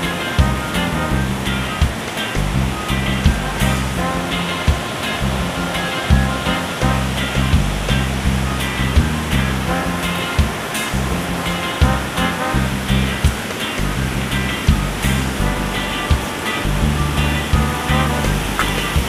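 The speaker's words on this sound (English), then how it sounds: "The river is so noisy!" A noisy, rushing river, the Oxford River on the border of St. Elizabeth and Manchester in Jamaica, roars loud and steady throughout. Its dense broadband flow carries a few irregular low thumps and splashes in the mix.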